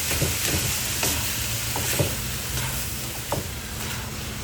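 Ground meat stir-frying in a pan, giving a continuous close sizzle and hiss broken by occasional scraping clicks of a spatula, with no talk over it.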